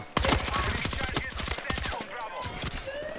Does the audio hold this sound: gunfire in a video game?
yes